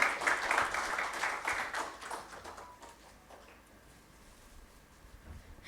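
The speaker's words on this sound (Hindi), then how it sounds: "एक बार जोरदार तालियां हो जाए." An audience at a stock-market panel symposium bursts into brief applause that is fairly loud at first, then tapers off into quiet after about three seconds.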